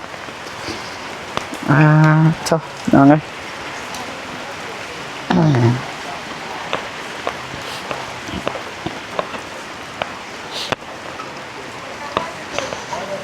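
Rain falls in a steady hiss with scattered taps of drops on a surface, heard from inside a car, while a voice speaks in a few short bursts.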